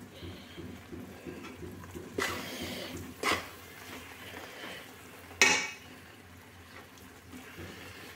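A metal spoon scrapes and clinks in a pan of sweet grated coconut mixture over a gas flame, with several distinct scraping strokes against a low background hum and soft speech at times.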